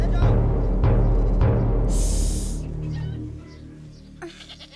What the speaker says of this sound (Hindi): बकरी की आवाज थी वो।